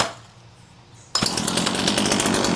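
A small two-stroke chainsaw that had not run in years, choke pulled, silent at first and then firing up abruptly into a loud, raspy, sputtering idle that keeps running.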